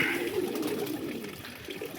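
Pet pigeons at a home loft cooing, a soft continuous low burble close by, with faint background noise and no talk.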